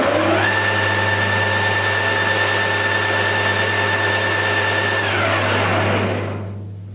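An old restored lathe motor and gearbox run with a loud, steady mechanical whir and a sustained tonal hum, close by, then wind down and fade at the end.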